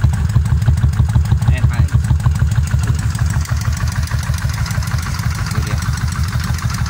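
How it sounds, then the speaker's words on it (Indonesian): A Kawasaki Vulcan 1500 motorcycle idles with a deep, loud, pulsing exhaust throb, close by and steady throughout, while someone talks briefly over it. "Ngebas banget knalpotnya itu."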